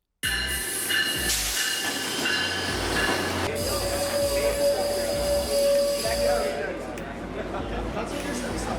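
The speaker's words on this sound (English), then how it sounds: "The train is approaching." A train approaches along the rail line in Thailand, a loud sustained rumble with hissing and high metallic wheel squeal building then easing, with voices present underneath.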